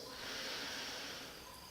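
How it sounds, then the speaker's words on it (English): A slow nasal inhale during yoga breathing, a steady airy hiss close to the ear that swells and then tapers over nearly two seconds, with no talking. "Inhale through the nose"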